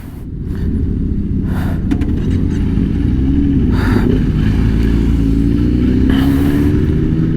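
Motorcycle engine on a group ride near Uplistsikhe, Georgia, running loud and close with a steady drone that rises as the rider revs and accelerates, a few brief noisy bursts riding on top.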